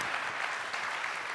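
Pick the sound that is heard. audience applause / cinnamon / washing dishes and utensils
audience applause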